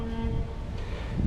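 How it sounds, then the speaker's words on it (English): A steady low engine rumble from a large boat on the water at Disney's Polynesian Resort drones on throughout with a faint tonal hum, with no one talking. "As you can hear that boat in the background there,"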